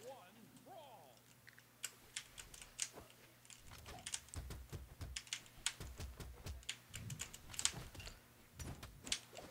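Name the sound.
typing on a computer keyboard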